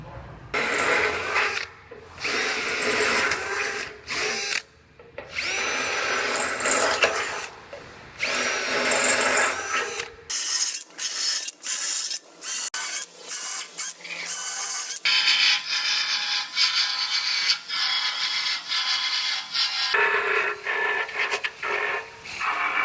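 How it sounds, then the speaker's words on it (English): A power tool grinds and scrubs metal rail spots down to bare metal ahead of welding, running in loud bursts with short pauses and a shift in tone partway through, close up with no speech. "clean off all of these spots down to clean metal so I can get nice clean welds"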